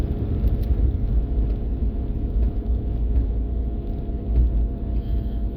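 A 2003 Jeep Liberty cruising smoothly on cruise control, a steady low road rumble and engine drone from inside the cabin, with no voices.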